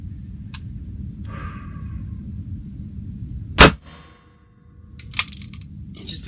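A handgun fires one sharp, loud shot amid quiet room noise, followed a moment later by a fainter metallic clink.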